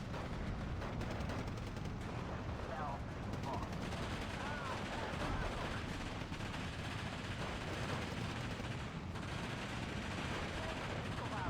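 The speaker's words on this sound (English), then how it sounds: "And they're artillerying the Nimrods now." Artillery and gunfire from a Steel Division 2 World War II battle, a dense continuous barrage of booms and shots filling the whole stretch at steady loudness, with someone talking over it.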